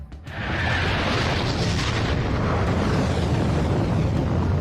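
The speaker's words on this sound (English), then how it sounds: "One by one, the nuclear charges begin to detonate." Nuclear charges detonating aboard a vessel give a sudden loud boom, then a continuous deep, roaring rumble that holds steady for several seconds with no voices.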